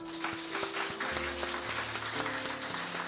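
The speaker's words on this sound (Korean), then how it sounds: "우리 박수로 환영하겠습니다" A church congregation claps in welcome for newly introduced ministers during a church founding thanksgiving service, steady dense applause filling the room for a few seconds without speech.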